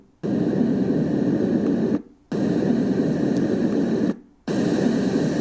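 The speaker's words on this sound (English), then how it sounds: "let's jump to white noise" Steady broadband white noise from a Renpho sound machine plays loud and even in three long bursts, each cut by a brief silent gap as the setting cycles.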